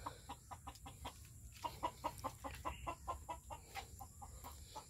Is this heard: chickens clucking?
yes